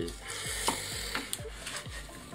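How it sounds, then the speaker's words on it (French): Green olives mixed with wood ash are stirred in a container, giving soft gritty scraping strokes with a few light clinks, close and quiet with no voices. "on remue de temps en temps, histoire que ce soit bien malaxé, mélangé"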